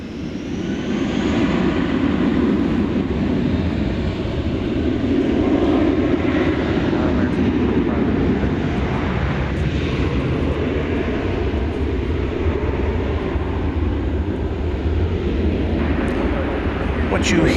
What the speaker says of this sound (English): What you hear and see is an Airbus A321.